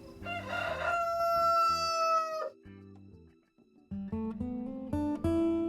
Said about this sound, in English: just beyond where that last rooster crows